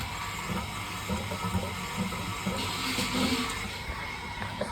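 A household water motor pumps municipal supply water into storage on a scheduled supply day, producing a steady hum and rushing, splashing flow, continuous and moderately loud.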